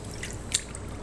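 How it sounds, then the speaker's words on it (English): A braid of superwash wool is lowered into a sink of water, giving soft dripping and a brief wet splash near the middle, close and quiet with no talking. "you're going to take the whole braid and you're going to put it in the water"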